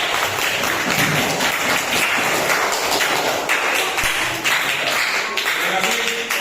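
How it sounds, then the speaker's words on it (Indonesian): Applause from a classroom group after a lesson, a dense patter of hand claps filling the room at steady loudness, with some voices mixed in and occasional thumps. "kasih tepuk tangan untuk"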